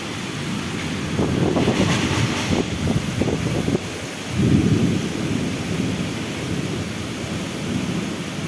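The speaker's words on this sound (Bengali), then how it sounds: "জানালাটা ওপেন করে তোমাদেরকেও একটু দেখিয়ে দিচ্ছি তার সাথে বজ্রসহ বৃষ্টি পড়ছে" Heavy rain pours steadily outside an open window while rolling thunder rumbles through twice, the second roll swelling midway; a broad, hissing downpour with no voices.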